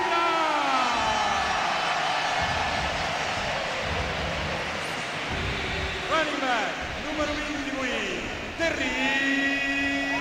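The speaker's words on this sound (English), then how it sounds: "Now here comes the biggest cheer." A stadium crowd at a World Bowl American football game between the Barcelona Dragons and Rhein Fire roars in a loud, sustained cheer, with talk heard over the noise.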